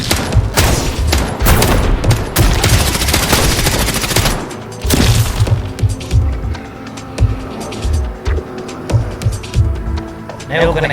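Rapid bursts of nail gun fire and explosions in a zombie video game, loud and dense in the first half, then thinning into scattered sharp shots and thuds.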